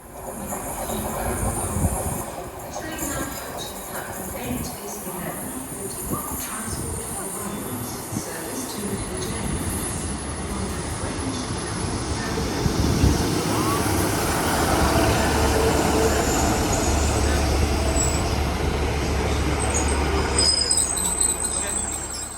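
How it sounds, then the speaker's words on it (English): Steady rumble and rattle of a moving airport-bound train to Cardiff Airport with faint wheel squeals, the noise swelling slightly as the ride continues. "And now for the airport train."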